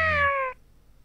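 A cat gives a single drawn-out meow, close and clear, falling slightly in pitch and ending abruptly, with no other sound around it.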